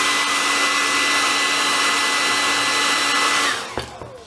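A hot-air heat tool blows a steady, loud whooshing hiss while heating the corner of a Samsung Galaxy Tab S5e screen to soften its glue, then shuts off, leaving a few faint clicks and handling noises.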